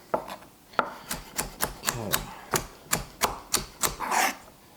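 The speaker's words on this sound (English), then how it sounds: "you take your time when you're chopping" A knife chops butternut squash or celery on a board in a steady series of about a dozen crisp, close knocks, with no talking.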